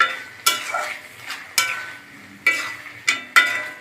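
Flat bean and garlic dish being mixed in a pan, a few sharp spoon scrapes and knocks spaced unevenly over a soft background sizzle, close and fairly loud with no talking.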